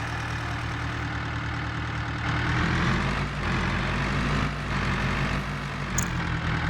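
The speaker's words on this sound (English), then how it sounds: "There's our new truck." A modded truck idles in the farming game Farming Simulator 22, with a steady, loud, low engine rumble. The level holds even and continuous throughout, and nobody speaks.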